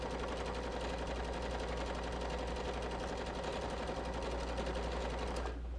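A sewing machine stitches a fabric scrunchie, running over pins in one fast, even, continuous mechanical chatter that holds steady for several seconds before stopping abruptly, close and alone.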